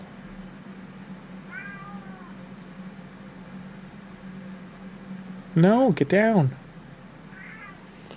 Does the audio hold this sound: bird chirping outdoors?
no